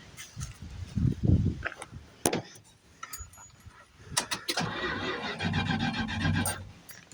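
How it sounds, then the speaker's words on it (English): A neglected 1973 Plymouth Fury III's starter cranks the engine with the key; after a few scattered knocks, the rhythmic, close churning of the cranking runs steadily for the last few seconds without catching. "All right, we do crank with the key."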